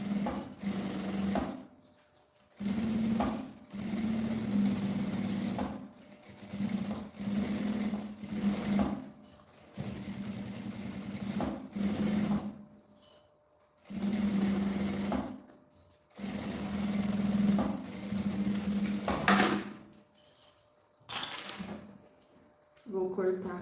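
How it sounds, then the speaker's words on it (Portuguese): A sewing machine with a presser foot stitches all the way around a small phone bag in repeated short whirring runs, close and clear, broken by pauses while someone talks between the bursts. "a gente vai passar uma costura com um pé de máquina em toda a volta"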